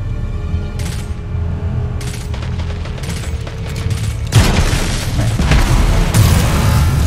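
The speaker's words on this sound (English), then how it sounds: "Someone asked for explosions." Explosions in the video game Destiny 2 boom in a dense, continuous barrage with gunfire-like bursts, loud and sustained, swelling heavier midway through.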